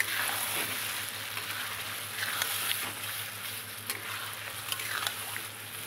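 Yogurt hitting hot frying masala in a pan for stuffed pointed gourd, giving a steady broad sizzle with scraping stir strokes throughout, close and continuous with no talking.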